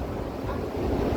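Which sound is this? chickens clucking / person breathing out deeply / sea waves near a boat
sea waves near a boat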